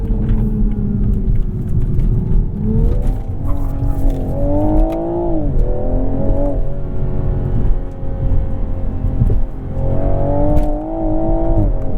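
A 2021 Toyota Supra with a 3.0-litre twin-scroll turbo inline-six accelerates hard, its loud engine note climbing through the revs, dropping at gear changes, then rising again over a constant road rumble.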